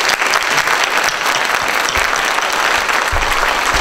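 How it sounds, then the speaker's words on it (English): Audience at a sheriff candidates' forum in Dawson County, Georgia, applauds for the candidates, a loud, dense burst of clapping that stays steady close to the microphone throughout. "Let's give our candidates a big round of applause."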